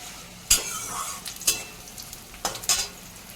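Peanuts and curry leaves frying in a pan for lemon rice, a soft steady sizzle broken by a few sharp scraping stirs, close and fairly quiet with no talking.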